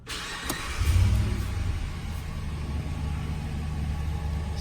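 A 2017 Ram 1500 SLT crew cab pickup being started: a short starter crank, then the engine catches with a brief low rev surge before settling into a steady idle rumble.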